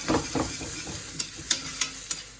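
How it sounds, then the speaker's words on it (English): Green peppers and spring onions fry in a pan, a soft sizzle under a few scraping stirs, then four sharp, evenly spaced clicks of a utensil against the pan. "we're going to just fry the peppers and onions off"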